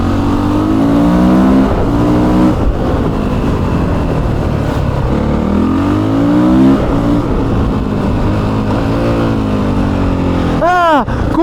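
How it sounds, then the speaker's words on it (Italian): Loud stock exhaust of a Honda CRF 450 motorcycle heard close up, roaring through repeated rising revs and gear changes, ending with a sharp high whine, while someone talks over it. "Cioè questa moto fa veramente tanto rumore per essere originale."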